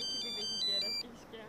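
A telephone rings after a call is placed: a bright electronic ringtone repeats for about a second and then cuts off, with voices talking underneath.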